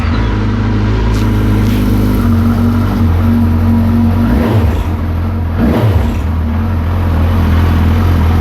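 A 2007 Suzuki Bandit 1250 motorcycle engine, just back running after a fuel pump repair, idles loudly and steadily close by with a couple of brief revs rising and falling.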